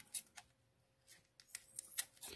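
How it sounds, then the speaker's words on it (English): Scissors cut open toy packaging for a Masters of the Universe Origins Trap Jaw figure, a series of faint, close snips and crinkles in quick irregular bursts. "Carefully cut these open and see what we have"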